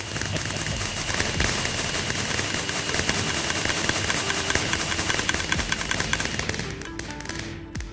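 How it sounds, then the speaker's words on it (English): Fireworks rockets fire all together from a row of dispensers in Minecraft. A dense, continuous barrage of rapid pops and crackles stays loud and steady for several seconds, then thins out at the end. "fire all these dispensers at the same time. Really fancy talk for fireworks"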